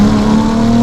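Ferrari 296 GTB fitted with a Novitec exhaust, its engine holding a loud, steady, close-up drone for a brief moment without any voices over it.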